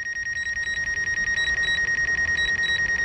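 Drone stuck out over the sea sounds a steady rapid electronic warning beep, a continuous high-pitched pulsing tone repeating several times a second, close and alone.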